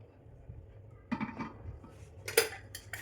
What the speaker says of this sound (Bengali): ঢাকনা দিয়ে ঢেকে দিলাম।